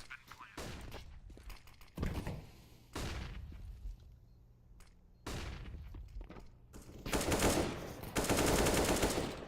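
AK rifle fire in a competitive shooter game, repeated sharp bursts of close automatic shots spaced a second or two apart, ending in a louder sustained volley, with a commentator talking.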